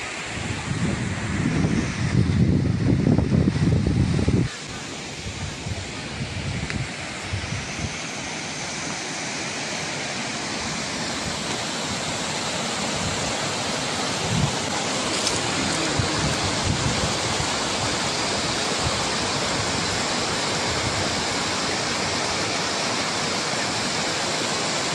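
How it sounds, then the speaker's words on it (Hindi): Rushing water from a stream fills the scene with a steady, loud broadband roar at a farm site near Pine Hills, Makhniyal, with heavy wind buffeting the microphone in the first few seconds. "ये वाटर स्ट्रीम के जो है पानी का शोर सुने कितना मज़े का जो है ना"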